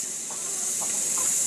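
Chickens on a tropical farm give a few soft, scattered clucks at middle distance over a constant high insect-like hiss, calm and quiet.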